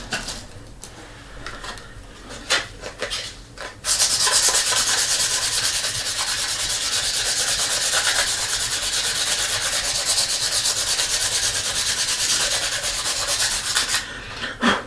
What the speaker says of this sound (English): And there's the red sandpaper.